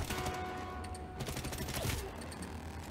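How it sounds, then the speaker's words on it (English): Gunfire rattles during a shootout in the Crossfire X video game, a fairly faint burst of sharp shots and clatter in the middle, set against a steady background hum. "Why are you having a shootout without me?"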